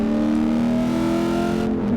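A home-built DIY race car engine holds a loud, steady high-revving drone during a shakedown run on a track, a strong harmonic tone that dips slightly in pitch near the end.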